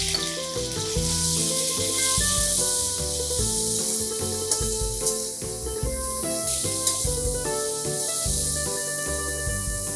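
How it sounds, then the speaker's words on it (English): Okra pieces with salt and amchur powder saute in a pan on high flame, giving a continuous hissing sizzle that carries on under steady background music. "You need to saute this on high flame to ensure that the bhindi just kind of begins to turn crisp on the outside"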